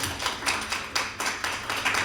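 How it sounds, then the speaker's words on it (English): Brief applause from a conference audience at a security talk, a short run of steady, evenly spaced claps close to the microphone. "let's give him a round of applause and get started"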